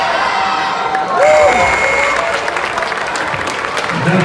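A crowd at a Pleasant Grove versus Lone Peak high school game gives applause and cheering, a broad continuous wash of clapping and voices with whistle-like tones early on, steady and fairly loud.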